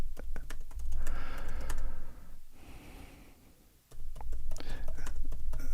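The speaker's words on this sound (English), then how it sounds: "I'll actually type thank you because I forgot to do that." Fingers tap a computer keyboard in close, brisk bursts of clicky keystrokes, pausing briefly in the middle before the clatter resumes, with no talking.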